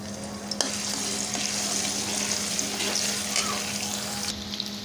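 Garlic ginger paste frying in hot mustard oil, a steady close sizzle and crackle with occasional stirring clinks, no talk over it.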